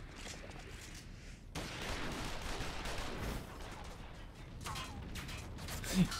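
Gunfire rattles through a Final Fantasy XIV cutscene as a steady, dense barrage under a noisy battle bed, ending in a sharper impact. Voices can be heard amid the shooting.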